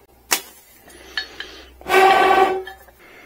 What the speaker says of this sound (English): And grinding wheel.